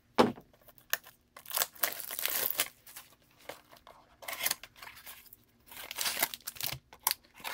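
A Topps Star Wars Masterwork card box from 2019 being torn open, with repeated crinkly tearing and ripping of wrapper and cardboard in uneven bursts, close up and with no talk.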